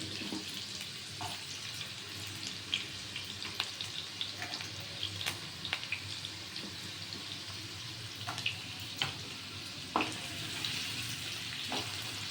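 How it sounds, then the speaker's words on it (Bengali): Potatoes, carrots and green chilies fry in a pan with a steady sizzle and scattered clinks and scraping taps of a utensil stirring, moderately loud and continuous, with no voices. "এবার গাজরের আলু একসাথে ভাজা হবে"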